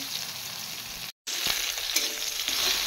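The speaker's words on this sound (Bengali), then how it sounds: "তো বেগুনগুলো ভেজে নিয়ে নিচ্ছি।" Eggplant pieces frying in hot oil for shukto, a continuous close crackling sizzle with a brief silent gap midway and a few stirring knocks, no voices.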